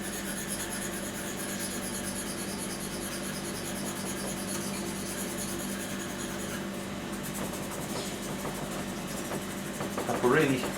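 An abrasive strip rubs against a large bevel wheel being polished, a steady close scraping rasp that runs continuously and grows louder with a few sharper scrapes near the end.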